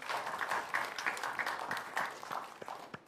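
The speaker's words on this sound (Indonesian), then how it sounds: "Boleh berikan tepuk tangan kembali untuk kedua pasangan calon" Applause from the audience at a televised first debate between regency head candidates in Serang, faint and thin, a few seconds of light scattered clapping with uneven bursts.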